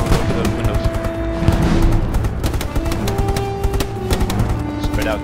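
Loud, sustained gunfire in a Hell Let Loose battle, dense rapid shots and machine-gun bursts crackling without pause, close and intense throughout.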